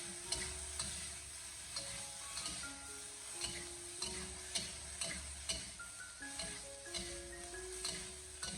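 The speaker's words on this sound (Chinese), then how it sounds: "在煸炒过程中，我们采用一边用锅铲轻轻的进行按压，一边进行翻炒的方式。" Green peppers stir-fry in a wok, with a spatula pressing and tossing them. Quiet sizzling runs under regular scraping and clicking strokes that repeat about every half second.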